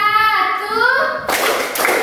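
A voice speaks briefly, then a group of students clap together in a loud burst that lasts under a second.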